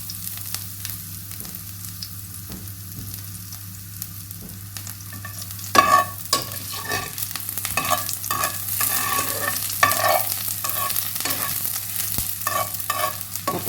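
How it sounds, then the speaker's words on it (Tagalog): Garlic frying in hot oil in a pan, a steady dense sizzle with stirring that grows louder and busier partway through as the garlic is moved around, close up with no talking. "meron tayong nakahanda na mainit na kawali na mayroon ng mantika. So ngayon, lalagay na natin yung bawang"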